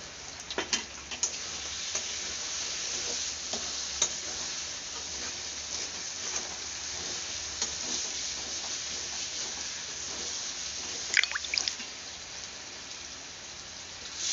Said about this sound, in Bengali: তো আমি এটাকে আবার একটু মাংসের মধ্যে দিয়ে আমি কষাবো